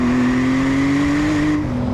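A new Porsche 911 Turbo S engine pulls hard under acceleration, a loud, steady, rising drone heard from inside the car that keeps building without letting up, with no talk over it.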